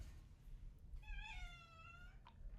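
A cat gives a single drawn-out meow, fairly close and clear, over a faint indoor background hum. Nobody speaks while it sounds.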